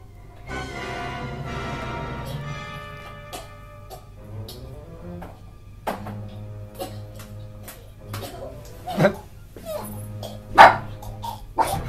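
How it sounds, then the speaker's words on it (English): A dog barks in short, sharp bursts, irregular and fairly close, over steady background music, with the loudest barks coming toward the end. "My dog doesn't like you, Alyssa."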